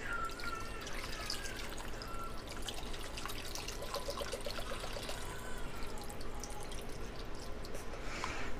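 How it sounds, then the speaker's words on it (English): Rubbing alcohol poured over Beretta APX pistol parts to soak them, a continuous close trickle and splashing of liquid with scattered drips, steady and moderately loud throughout. "And just proceed to soak this in rubbing alcohol."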